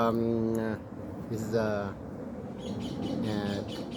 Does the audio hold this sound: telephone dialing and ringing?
no